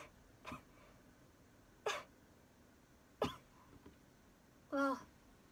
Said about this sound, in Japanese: あ、次またくしゃみ出そう。